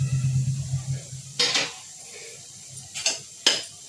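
A lid comes off a pot of Bombay duck curry, with a few sharp metallic clanks and clinks of pot and lid after a low steady hum, close and distinct, with no voices.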